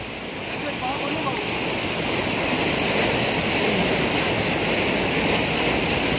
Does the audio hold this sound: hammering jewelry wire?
no